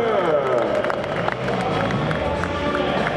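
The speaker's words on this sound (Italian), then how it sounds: "l'applauso per Chris Pfeiffer" At the EICMA 2012 motorcycle show, a crowd cheers and claps for stunt rider Chris Pfeiffer, a broad roar of voices and applause with a compere's amplified voice over it.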